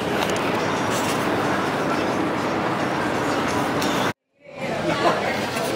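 Riding a New York City subway train: a continuous rumbling roar of the moving car with crowd chatter mixed in, broken by a sudden brief drop to near silence before the noise resumes.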